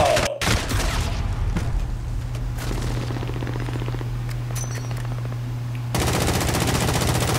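Gunfire from many players shooting in an online video game, with dense bursts of rapid shots and booms up front, then sparser scattered shots under a steady low hum before a loud burst returns at the end.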